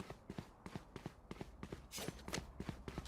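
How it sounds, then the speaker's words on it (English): Rapid, close footsteps patter in the Valorant video game during a pro esports match, mixed with bursts of other game sounds. "he's going to hear these footsteps"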